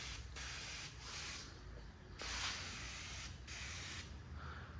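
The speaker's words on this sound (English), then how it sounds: "And this is just a good degreaser." Foaming degreaser sprays from a shaken aerosol can onto a Squarebody or Foxbody vehicle in repeated hissing bursts with short gaps, fairly close and fairly quiet.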